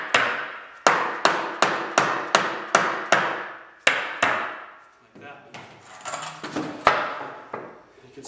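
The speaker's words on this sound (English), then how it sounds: "Just lightly tap it into place." A wooden joint of a small pet bed is tapped into place with a hammer: about nine sharp, evenly spaced knocks, followed by a few scattered softer taps and some handling noise.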